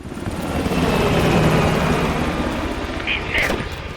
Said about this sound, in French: L'hélico s'est enfui!